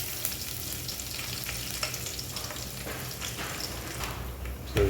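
Curry leaves sizzle and crackle as they fry in hot oil with mustard seeds, fenugreek and cumin, a steady soft hiss with scattered pops and the occasional stir, fairly quiet and without talk.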